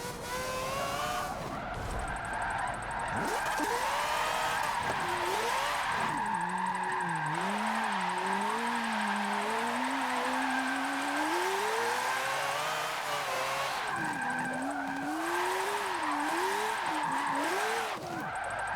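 A rotary-swapped car in the racing game Forza Motorsport 7 screams at high revs throughout, its pitch climbing and dropping with gear changes and tire squeal, loud and continuous.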